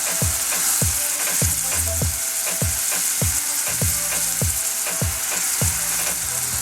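Onions and peppers fry loudly in a pan with a constant dense sizzle, punctuated by a regular rhythm of sharp scraping or tapping strokes roughly twice a second from stirring.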